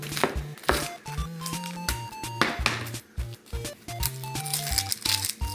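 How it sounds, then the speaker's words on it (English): Someone chops an onion with a knife on a board, making a quick series of sharp, close taps over light background music. "the first thing we have to do is chop our onion"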